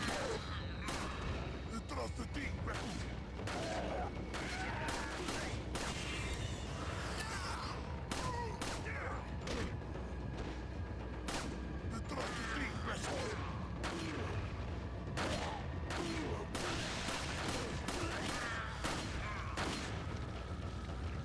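Gunfire in the video game Resident Evil 4 rings out as repeated sharp shots and booms over a dense, busy game soundscape, continuing throughout while a voice talks in places.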